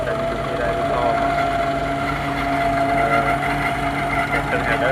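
A tractor engine drives a groundnut thresher in a steady, continuous drone with a low rumbling hum and a whirring mechanical layer that holds evenly throughout.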